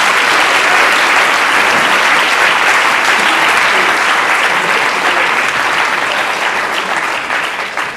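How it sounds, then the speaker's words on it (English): Audience applause fills a launch event for a book on rethinking capitalism, a steady, dense clapping from a sizeable crowd that holds strong throughout and fades slightly at the very end. "So a round of applause for everybody"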